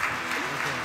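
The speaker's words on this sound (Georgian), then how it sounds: "Please give a round of applause" Audience applause for footballer Robert Pires at a Betsson forum stage event, a steady dense wash of clapping filling the short moment without pause.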